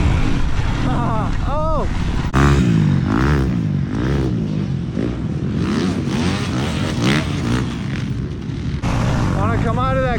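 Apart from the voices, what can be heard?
motorcycle engine revving during a wheelie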